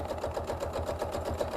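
Steady rapid stitching of a sewing machine quilting a quilt-as-you-go project, a close, even mechanical chatter pulsing at a regular fast rhythm throughout, with no talk.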